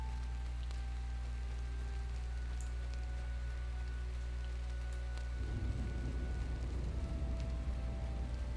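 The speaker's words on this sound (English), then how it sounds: "I guess this rain is right up your alley, huh?" Rain falls in LOTRO, a constant soft patter over a low steady rumble, thickening into a denser wash of drops about halfway through, with no talking.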